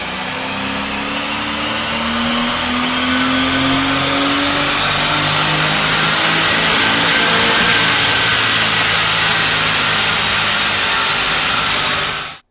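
A Porsche Boxster engine with 135,000 miles revs loudly and steadily on a dyno, its pitch climbing over several seconds to a high whine near 7,000 rpm before cutting off abruptly.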